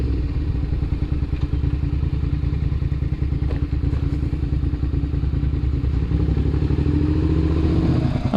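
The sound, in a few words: 2006 Suzuki SV650S motorcycle engine starting and running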